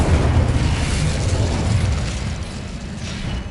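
Fiery spell explosion from the Incendio charm in Hogwarts Legacy, a loud rumbling burst with a crackling, roaring tail that slowly fades over a few seconds.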